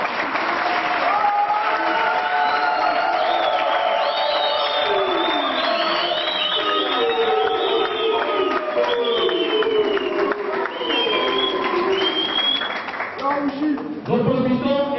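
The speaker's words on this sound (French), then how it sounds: "Nous demandons aux combattants de l'accueillir avec des applaudissements." A crowd applauds and cheers to welcome a returning member at a political party gathering, with dense continuous clapping mixed with whoops, shouting voices and rising chant-like tones throughout.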